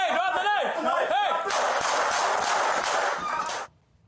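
Rapid burst of gunshots fired by police, loud and dense for about two seconds after shouting, then cutting off abruptly to near silence.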